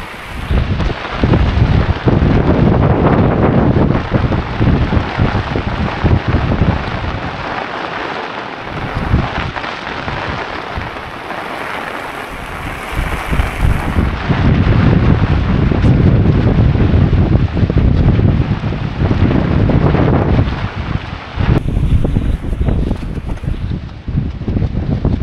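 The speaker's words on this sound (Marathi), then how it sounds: "पाऊस वाढलाय" Heavy monsoon rain and gusting wind roar on a trek up Sudhagad fort, a dense, loud, continuous wash that buffets the microphone and eases briefly before surging again.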